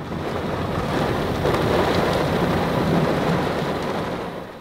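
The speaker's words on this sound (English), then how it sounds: "the rain." Heavy rain with thunder on a trip in the Philippines: a loud, steady wash of downpour that swells mid-clip with a low rolling rumble, no voices.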